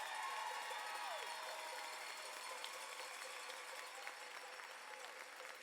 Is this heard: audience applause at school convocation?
yes